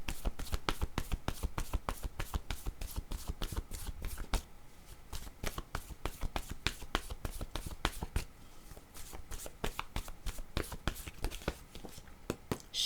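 Word cards being shuffled by hand, a quick run of crisp riffling taps and flutters, close and fairly quiet, continuing with a short pause partway through.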